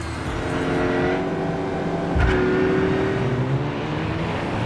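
A Chevrolet El Camino drives in Gran Turismo 6. Its engine hums steadily at a close, even level, then rises briefly in a louder rush as it accelerates before settling back into a constant drone.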